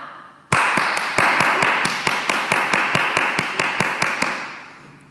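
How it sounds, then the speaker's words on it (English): Children applauding at a school assembly, a quick run of sharp even claps or taps that starts abruptly, holds a steady fast rhythm and trails off over a few seconds, close and fairly loud with no talking. "I think they deserve a clap."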